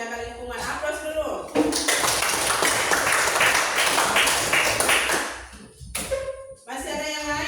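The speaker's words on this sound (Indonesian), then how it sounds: "Aplaus dulu." A classroom bursts into steady applause that lasts about four seconds, with a teacher talking just before and after the clapping.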